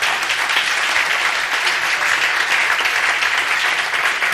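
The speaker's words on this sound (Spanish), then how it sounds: "Denle un aplauso al Señor por eso." Congregation at a church conference on the Bible and science breaks into loud, steady applause, a thick continuous roar of many clapping hands lasting several seconds, close and even in level with no voices heard.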